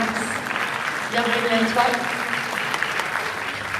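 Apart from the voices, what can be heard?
audience applause for Max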